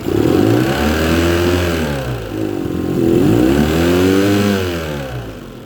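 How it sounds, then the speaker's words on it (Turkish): A 115-horsepower Yamaha outboard boat motor revs up and down in two long swells while being flushed with treated water, its pitch rising and falling, loud and close with a steady rumble underneath and no talking. "Şöyle biraz gaz verelim köpürsün."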